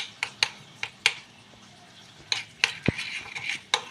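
Potatoes being stirred together with raw beaten egg in a dish, giving a series of sharp spoon clicks and scrapes against the dish, irregular and close, with quiet gaps between bursts.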